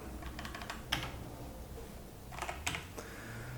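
Keys on a computer keyboard clatter while code is typed, arriving in short quick bursts with pauses between them, close and moderately quiet, with no voices.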